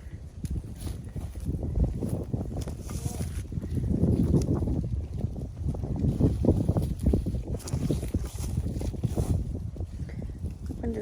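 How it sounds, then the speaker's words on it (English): Strong outdoor wind buffeting the microphone on a spring homestead, a loud continuous low rumble that swells and eases throughout, with faint background activity underneath. "Wind is so bad."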